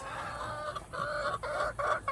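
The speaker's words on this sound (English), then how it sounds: "here's the chickens" Backyard chickens cluck in a series of short, nasal calls close by, several bursts in quick succession over quiet background noise.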